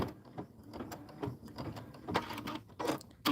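An embroidery machine drives its needle and thread through thick, layered fabric, giving quiet rhythmic mechanical stitching bursts that repeat steadily, with a louder thump near the end and no talking.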